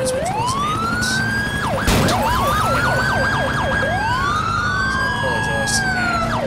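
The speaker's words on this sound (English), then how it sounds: "I did not hear a third bunch of sirens, which was an ambulance." An ambulance siren from GTA IV wails loud and close, with rising and falling sweeps and a fast yelp section. Other sirens and traffic rumble sit underneath it throughout.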